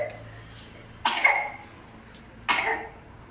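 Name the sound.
coughing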